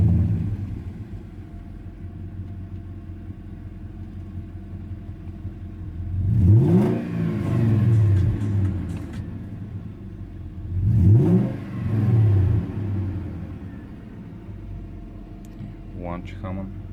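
A BMW E39 540i with the 4.4-litre V8 revs twice from a low idle rumble, each rise swelling loud and falling back, close by.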